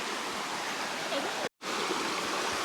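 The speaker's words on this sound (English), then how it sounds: "straight to the creek here." Creek water flowing during a 4WD camping trip, a steady broadband rush close by that cuts out for a moment midway, with no talk.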